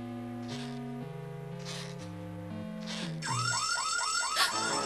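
Alarm going off on Bowser's machine in a Super Mario Bros. cartoon: a steady electronic siren with repeating low stepped tones, then shifting into rapid rising warbling whoops that pulse loudly over background score.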